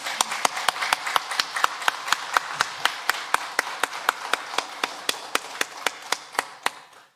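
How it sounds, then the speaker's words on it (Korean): A church congregation at a Sunday service at Gunpo Peniel Church claps in praise: crisp, evenly spaced hand claps beat in a steady, fast rhythm for several seconds and then taper off. "우리 힘찬 박수로 주님께 영광 돌리겠습니다."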